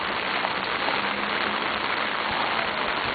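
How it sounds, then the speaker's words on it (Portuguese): Heavy, steady rain pours down in Friburgo, Brazil, a dense, unbroken hiss with no pauses, close and loud throughout. "Há quanto tempo não tem uma chuva dessa aqui?"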